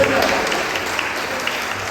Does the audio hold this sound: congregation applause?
yes